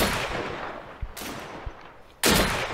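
Shotgun blasts in the game Deadside, a few loud sharp shots separated by pauses amid outdoor background noise, the last one booming close.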